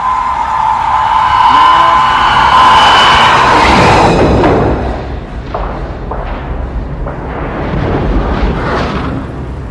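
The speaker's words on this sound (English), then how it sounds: "Torpedo impact." A torpedo striking a ship detonates in a loud, sustained explosive roar, followed by several dull thuds and rumbling booms as the blast fades into a lower, continuing rumble.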